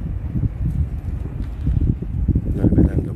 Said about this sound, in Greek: Ακού πως κάνει ο αέρας, ακού πως κάνει.